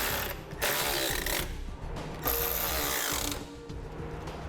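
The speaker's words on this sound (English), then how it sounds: "So now we'll take our 6mm socket and we'll snug up those bolts too." A ratchet with a 6mm socket snugs the bolts on Westin PRO TRAXX oval nerf bars, giving close, loud bursts of rapid clicking with brief pauses between strokes and no talk.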